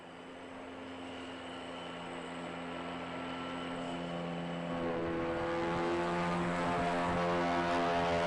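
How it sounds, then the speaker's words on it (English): A steady whirring rotor drone of the Ingenuity Mars helicopter in a low-pressure test chamber builds gradually, with a harmonic buzz growing louder and higher over several seconds, no voices. "Here you can see the helicopter being tested in a low-pressure atmospheric testing chamber."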